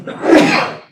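A single loud, close sneeze lasting under a second, heard during a public committee meeting.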